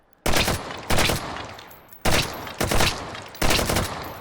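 Five loud AK74N rifle shots chambered in 5.45x39mm, fired in the H3VR virtual-reality game, each with a sharp crack and a decaying tail, spaced irregularly in pairs and singles.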